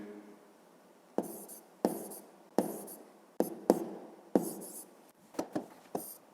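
A pen or pencil writes numbers by hand on paper for a fifth-grade math multiplication exercise, a series of distinct scratchy strokes and taps in irregular rhythm, close and quiet, with no talk.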